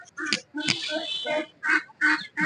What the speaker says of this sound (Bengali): এই যে হাঁসও আছে, হাঁসের দামটাও দেখায় আপনাদেরকে